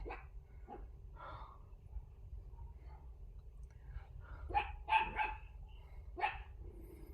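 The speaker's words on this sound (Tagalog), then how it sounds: "Yan din ang aso." A dog barks several times at a distance, sharp yelps clustered near the end over a low steady background rumble.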